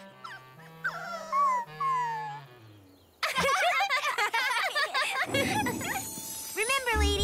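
Cartoon puppies whimper in high, wavering squeals during the first few seconds, then break into busier yapping and barking over a bright, dense musical background from a Strawberry Shortcake children's cartoon.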